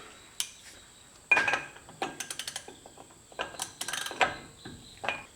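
A greased front wheel hub bearing on a Toyota Land Cruiser being spun by hand during a brake and bearing replacement, giving close rapid ticking and clicking bursts in several runs between pauses.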